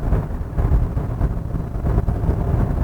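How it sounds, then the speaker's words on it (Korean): Inside a 2023 Hyundai Santa Fe cruising at 73 km/h, a steady low rumble of wind and road noise fills the cabin, fluctuating gently with no talk. "드라이버 입장에서 들었을 때에는 풍절음이 크게 들리지가 않습니다"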